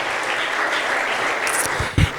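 A church congregation claps together in a brief burst of applause, a dense steady patter with a louder clap near the end.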